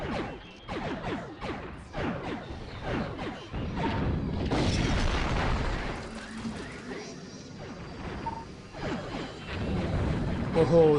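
Exploding barrels in the space combat game Space Pirates and Zombies, a run of sharp shattering crashes and blasts with a longer roaring burst in the middle, while a person talks.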